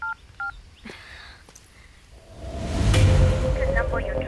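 Several DTMF keypad tones from a mobile phone as a number is dialed, short beeps in quick succession near the start, followed by rising rumbling background noise and a faint steady tone.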